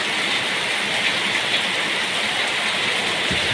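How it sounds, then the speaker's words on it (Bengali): Steady rain falling outdoors and running into drums and buckets set out to collect it, a loud, continuous hiss with no talk. "এটার মধ্যে বৃষ্টি জল পড়ছে"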